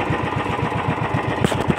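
A small engine idles at its lowest setting, slowed by a bucket tied to it with rope, giving a steady, rapid low putter that runs continuously and close by, with no talking.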